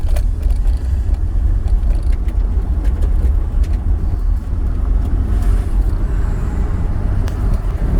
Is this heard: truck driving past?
yes